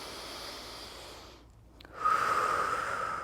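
Deep breathing during a prenatal yoga stretch: a long, soft exhale, a brief pause, then a louder, close inhale that carries a faint nasal whistle.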